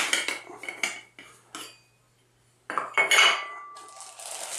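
Metal parts of a Trangia 27 ultralight aluminium cook set clinking and rattling as they are handled, a series of sharp clanks around a short pause.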